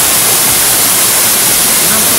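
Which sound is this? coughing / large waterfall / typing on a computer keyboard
large waterfall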